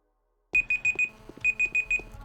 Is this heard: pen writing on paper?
no